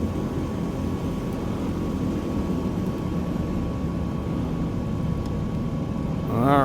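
A de Havilland Caribou landing in Microsoft Flight Simulator 2020 produces a steady, droning engine rumble with a faint constant tone; near the end a rising whine swells briefly louder. No one speaks.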